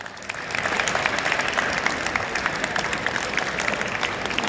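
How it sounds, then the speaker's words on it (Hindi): Strong, steady applause from a crowd at a national ju-jitsu championship in Uttarakhand, cheering the coaches. The clapping swells quickly after a quiet start and holds dense and even throughout, with no voices heard above it. "और आपके कोचेस के लिए भी एक बार जोरदार तालियां होनी चाहिए।"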